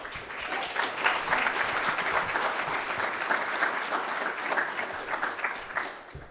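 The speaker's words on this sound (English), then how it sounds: "another round of applause for her, please." An audience at a live conference talk applauds steadily for the full six seconds, a dense, even wash of clapping heard close and fairly loud, with no voices rising above it.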